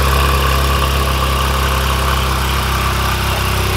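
A Porsche GT3 RS with a titanium exhaust runs loud and close just after starting, a dense steady idle with a low rumble and no voices.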